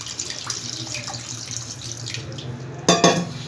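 Water from a tap runs and splashes over flour dough in a bowl, a steady trickle that swells into a louder gush near the end.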